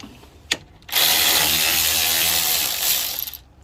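A power tool spins out a 10 mm radiator bolt on a Nissan Maxima or Altima, a sharp click followed by a loud, close whirring burst lasting about two and a half seconds, with no talking.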